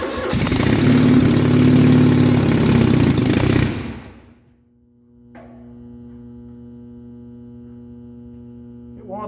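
A 1971 Gravely 450 engine with a freshly rebuilt carburetor runs loud and rough, then cuts out abruptly, leaving a low steady hum with faint clicks near the end.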